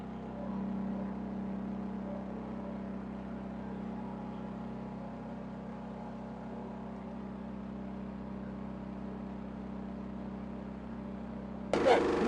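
A diesel engine powering a sugarcane juice machine runs with a steady low hum and drone that holds unchanged for a long stretch, ending in a brief louder clatter.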